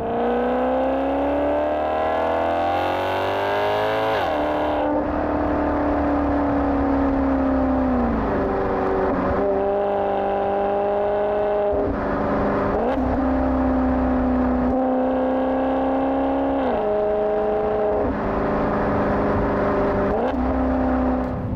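A 2018 Maserati GranTurismo MC engine in sport mode, heard from the cabin, climbs through repeated rising revs with sharp drops at each gear change, a loud sustained howl and no talk.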